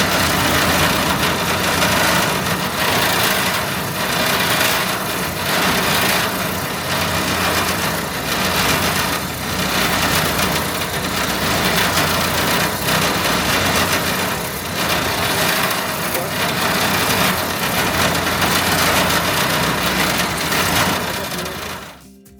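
A Grillion electric grill cleaner scrubs a grill with its spinning chain brush, giving a continuous, loud motor whir with a gritty scraping texture that holds steady for the whole stretch, then cuts off abruptly.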